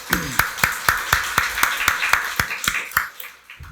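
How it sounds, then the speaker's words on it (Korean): A church congregation at a Sunday worship service claps in unison, about a dozen sharp, evenly spaced claps in a steady rhythm that fade out at the end, with no talking. "박수로 하나님께 영광 돌리겠습니다."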